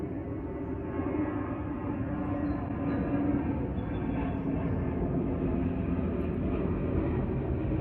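A steady, broad engine roar from an airplane passing overhead at a state park, sustained and fairly loud throughout with no talking.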